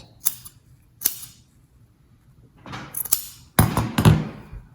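Scissors trim a fabric seam allowance on a sewn zippered critter pouch, producing several close, sharp snips spaced irregularly, with a quick cluster of cuts toward the end.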